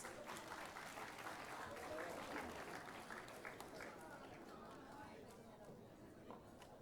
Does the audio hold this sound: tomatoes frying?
no